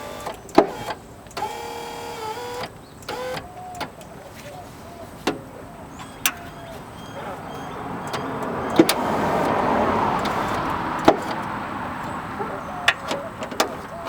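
Power window regulator on a Porsche raising the glass, a motor whine swelling over several seconds amid sharp clicks and knocks from a nearby workshop, with brief speech.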